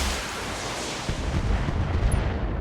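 A volley of missiles fires in the Battletech video game, a loud rumbling barrage of booming launches and blasts rolling continuously over a couple of seconds.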